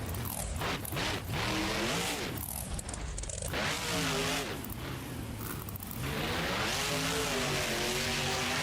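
Superman monster truck charging at full speed in a BeamNG Monster Jam car crush competition, its engine roaring loud and continuous with rising and falling revs over the whole stretch.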